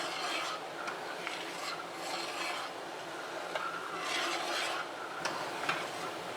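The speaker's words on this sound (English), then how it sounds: "This is what I mean by a full rolling boil. Stirring is important right now because it might actually boil over." Crabapple jelly at a full rolling boil is stirred in a pot, a close, rhythmic scraping of the spoon against the pot over a bubbling hiss, with strokes repeating about every second.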